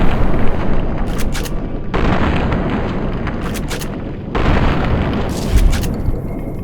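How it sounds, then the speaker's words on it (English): Shotgun blasts in Fallout: New Vegas, fired at a radscorpion near an old gas station. Three heavy booming shots land a couple of seconds apart, each followed by a sustained rumbling tail. "I took the chance to try out my new shotgun"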